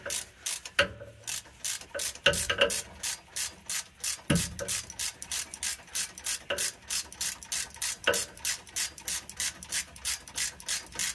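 A ratchet wrench tightening a brake hose bolt on a 2004 Dodge Ram 1500 clicks in a fast, even rhythm of about thirty close strokes, with a few heavier knocks between them and no voices.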